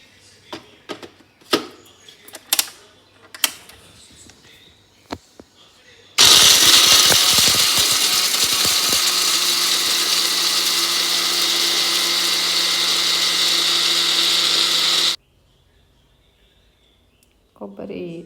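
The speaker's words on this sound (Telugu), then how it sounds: "కొబ్బరి మెత్తగా గ్రైండ్ అయిపోయింది." A kitchen mixer grinder whirs loudly and steadily for about nine seconds while grinding spoiled coconut, cutting off abruptly, with scattered knocks and handling clatter before it starts and a brief bump near the end.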